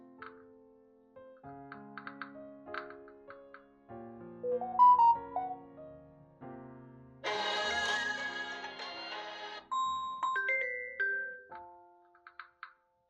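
A Samsung Galaxy phone plays a series of short melodic chimes and tones as the ringtone, media, notification and system volume levels are adjusted, with a brief burst of bright music in the middle and no talking.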